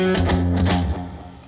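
A polyrhythmic metal riff, variation A, nine eighth notes long, played on a heavily distorted low-tuned guitar: a short burst of chugging palm-muted hits and accents, loud and close, then a decaying ring.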